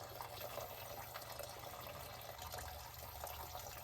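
Fluid drains steadily from the drain plug of a 1967 Mustang into a filling pan, a continuous faint trickle and splash with no pauses and no voices.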